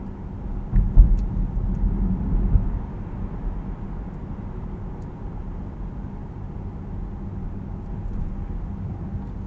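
A 2026 Nissan Qashqai e-Power hybrid drives in EV mode, a quiet, even cabin hum of road and tyre noise with a slightly louder swell early on, then a low, steady rumble with no voices.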